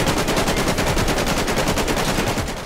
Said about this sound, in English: Next thing I know, I hear a bunch of motherfucking gunshots.